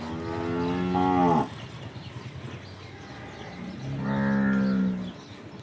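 A local Banaskantha cow moos twice, two long, low calls a few seconds apart, close and clear against a quiet background.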